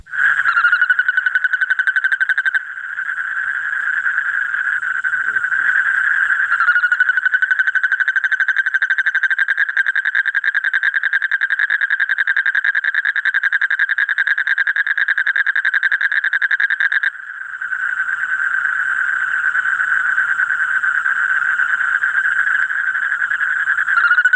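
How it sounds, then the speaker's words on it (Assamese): A dense, continuous chorus of frogs croaking at night, loud and unbroken throughout, with a buzzing trill that barely changes. "চাওঁ ভেকুলীয়ে কেনেকৈ মাতে ৰাতি"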